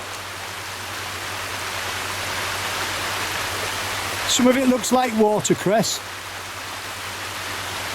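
Water of a Yorkshire Dales stream flows steadily as a broad, constant rush throughout, with a person talking briefly over it near the end.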